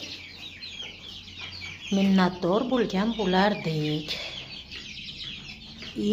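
Hens cluck close by among their chicks, the calls busy and rhythmic in the middle, while a person speaks over them.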